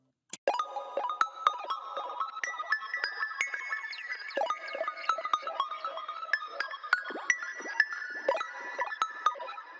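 A bright synth pluck melody processed with reverse delay, pitch shift, distortion and micro shift, for a beat in FL Studio, plays alone with steady rhythmic notes, smeared swelling tails and a wide, dreamy wash throughout.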